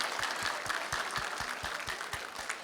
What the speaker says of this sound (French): une bonne main d'applaudissements pour Spliffs and Stones, tout le monde